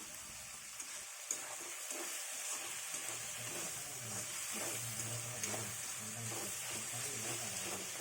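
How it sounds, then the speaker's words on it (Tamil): Tomatoes with a pinch of salt sautéing in a pan while being stirred, giving a steady soft sizzle with faint scraping and clinks of the spoon, close and alone without talk. "இப்போ தக்காளி வதங்கிறதுக்காக கொஞ்சமாக உப்பு சேர்த்து கிளறி விட்டுக்கலாம்"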